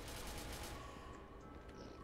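Rapid gunfire in SCP: Secret Laboratory, a dense burst of shots that fills the first part and then thins into scattered quieter reports, with no talking.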